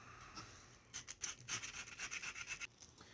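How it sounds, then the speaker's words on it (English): Sandpaper is rubbed over one spot on a handmade wooden slingshot, giving a faint, close series of short rasping strokes in a quick back-and-forth rhythm, heard alone. "we're just going to take another piece of sandpaper and try to sand over just that spot right there."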